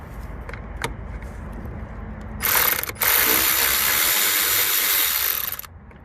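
A Snap-on 1/4-inch ratchet with a flex head swivel socket clicks rapidly and loudly in a steady, continuous burst, close up, during work on a 2014 Chevrolet Captiva radiator.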